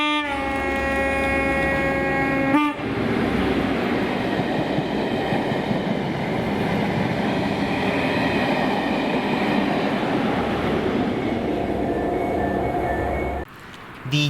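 Train 1Q77 from Mossend to Inverness, hauled by Class 43 power cars 257 and 272, roars past in Scotland with a loud, sustained rumble and rattle, framed by tonal engine notes at the start and end.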